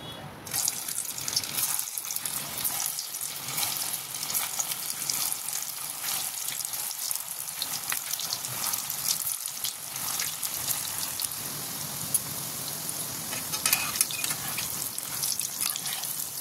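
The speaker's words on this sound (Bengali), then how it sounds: "চলো কোপ্তাগুলো ভেজে নিই।" Soybean koftas fry in hot oil in a wok, with a dense, continuous bubbling crackle that stays close and fairly loud throughout, broken only by faint clinks.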